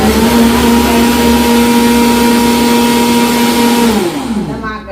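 Kitchen mixer grinder grinding a batch into powder, a loud close motor whine holding steady then winding down and stopping near the end.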